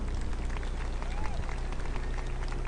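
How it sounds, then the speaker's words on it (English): A crowd at a class of 2022 graduation ceremony applauds, with dense, steady clapping that holds at an even level from start to finish, with a faint voice underneath. "Let's give them another round of applause"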